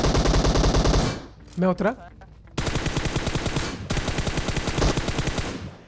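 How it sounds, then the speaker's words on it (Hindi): Automatic gunfire in PUBG Mobile, long loud bursts of rapid shots that stop briefly for a quick spoken line, then resume in two more sustained volleys, close and dominant. "अब जैसे हम यहाँ पर आए उस बंदे ने हम पे फायर किया"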